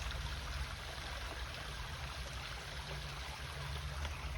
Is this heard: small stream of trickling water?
yes